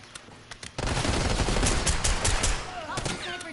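Gunfire around the high-value target in Black Ops 6 multiplayer, a sudden dense burst of loud rapid automatic shots lasting a few seconds, with a voice speaking faintly near the end.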